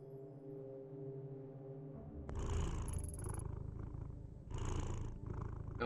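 A cat purring in the video game Tokyo: Dark Remembrance, a low rumbling purr rising in bursts, joined by brief higher game sound effects.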